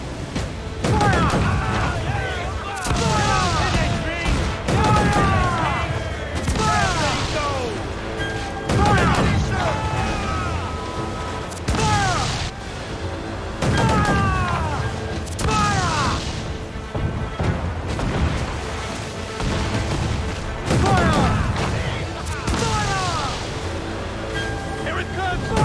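Naval cannon fire during a ship skirmish in the pirate video game Assassin's Creed IV Black Flag, with repeated loud booms and crashes amid shouted crew orders, music and battle noise.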